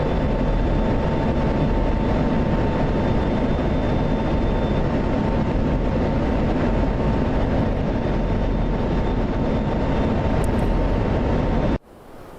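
An F-16 jet engine roars at full afterburner, a loud, steady, broadband rumble and hiss that stays constant for about twelve seconds before cutting off abruptly near the end.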